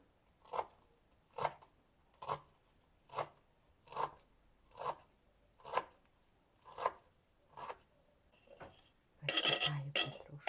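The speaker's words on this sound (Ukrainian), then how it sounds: "Нарізаю петрушку." A knife chops parsley on a cutting board in an even rhythm, about a dozen crisp strikes, followed by a clatter of utensils.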